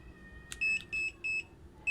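Electronic beeps from an HTC CM-2016 digital clamp meter, four short steady tones in quick succession, close and clear.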